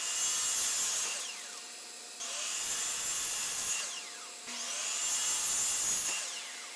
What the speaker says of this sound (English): Over at the miter saw, I cut 4 boards at 48 inches long